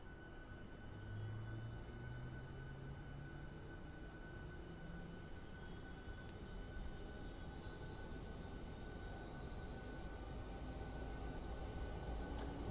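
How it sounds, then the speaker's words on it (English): Auxiliary power unit of a PMDG 737-900ER airliner in Microsoft Flight Simulator spooling up, heard from outside at Seattle: a steady droning whine with a rising tone, continuous and moderately loud with no talking. "let's go ahead and spool up the APU"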